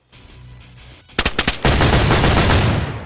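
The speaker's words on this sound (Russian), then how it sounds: "По мне стреляют" Gunfire in the video game DayZ: after a quiet start, a few loud sharp shots crack close by, then a dense sustained burst of rapid fire fills the rest.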